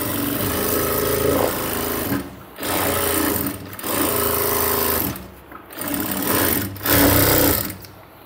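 An electric sewing machine stitches a double seam on a cargo half pant, running in several loud bursts of rapid whirring broken by short pauses, with no talk over it.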